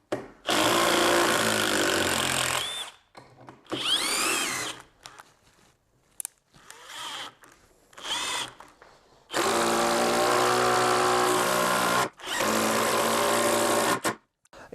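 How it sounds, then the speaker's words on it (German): Cordless power drill driving very large screws into wood, loud whirring bursts in several runs with short pauses between, the longest near the end, alone without talk. "dass es jetzt nicht so oft vorkommt, dass man solche riesen Schrauben reinballert"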